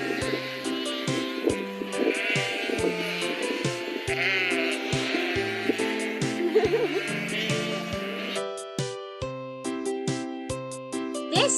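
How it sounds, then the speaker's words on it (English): A sheep bleating in a series of clear, close, wavering calls, steady and repeated throughout, with a regular rhythmic backing beneath. "This is a sheep."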